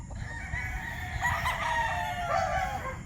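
A stag rooster crows nearby, a loud, drawn-out call rising and falling, followed by a second shorter crow, over a faint hum of background noise.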